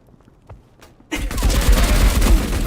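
Gunfire in a multiplayer shooter video game: after a second of near-quiet with a few faint taps, a loud, sudden burst of rapid automatic shots erupts and keeps going as a heavy, continuous rattle.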